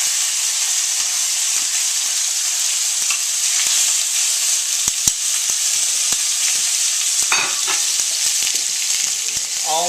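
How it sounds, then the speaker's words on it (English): Steady, bright sizzling of fajita meat frying in a hot iron skillet, a constant crackling hiss with occasional sharp pops, close and fairly loud. "Now it's going to sizzle up all nice and good"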